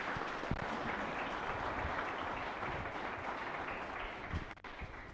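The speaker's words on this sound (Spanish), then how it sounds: "él se merece un fuertísimo aplauso" Soft, continuous clapping from a church congregation at a Mass, a dense patter of many hands heard at a distance, tapering slightly toward the end.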